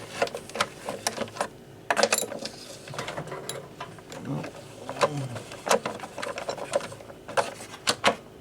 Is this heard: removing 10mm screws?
yes